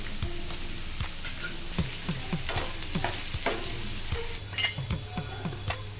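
Onions fry with salt in a pan, a continuous close sizzle with a run of rhythmic spatula taps and scrapes against the metal, no voices.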